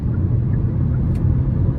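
A 2024 Hyundai Kona SE engine in sport mode gives a loud, steady low rumble from inside the cabin under acceleration, with no talk.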